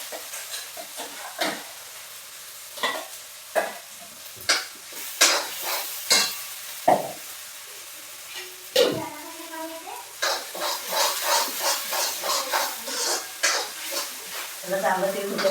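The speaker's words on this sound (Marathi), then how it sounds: "चांगलं तेल सुटेपर्यंत ढवळून घ्यायचं." Ground masala paste for a fresh cashew curry frying in oil in a pan over a wood-fired clay stove, with repeated rhythmic scraping stirs over a continuous close sizzle.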